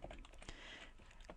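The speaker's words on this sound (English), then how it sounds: "so let me type it up" Rapid typing on a computer keyboard, a short quiet burst of close key clicks.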